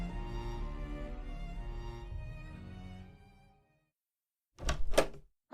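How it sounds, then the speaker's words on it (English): A radio-drama sound effect of something bumping against a front door comes as a short double thud, loud and close. It follows a stretch of music and then a moment of silence. "I heard something bumping against the front door"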